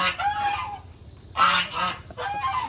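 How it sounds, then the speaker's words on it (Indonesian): Geese honk loudly and close by beneath a stilt house, giving three harsh, noisy bursts of agitated calling separated by short gaps. "saya menjauh dari angsa"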